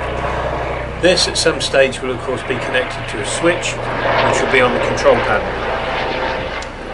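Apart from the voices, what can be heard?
helicopter flying over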